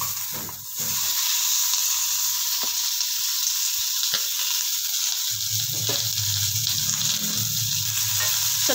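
Onions fry in oil in a pan for an onion tomato chutney, a loud, steady sizzle up close with occasional stirring scrapes and bubbling, no voices.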